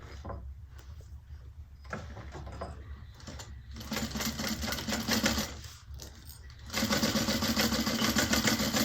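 A sewing machine stitches along the side of a fabric handbag pocket in short bursts, quiet and close, with brief stops between runs and a longer, steadier stretch of stitching at the end.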